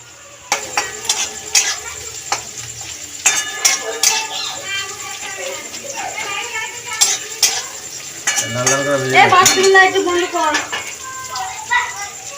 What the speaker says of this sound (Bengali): আর পেঁয়াজটা হালকা লাল লাল করে ভাজা হচ্ছে